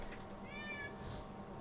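A cat screams at a door with one drawn-out, strained meow over a constant loud background hum.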